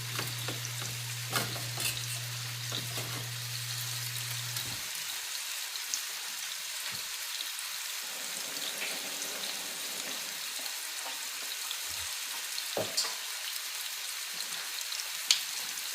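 Ribeye steaks sear steadily in a hot pan, giving a continuous close sizzle and frying crackle with occasional stirring and scraping sounds, and no talk.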